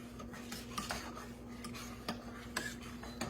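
A whisk stirring thickening chocolate pie filling in a pot on low heat, soft repeated clinks and scrapes against the metal at an irregular pace, quiet and close, with no talking.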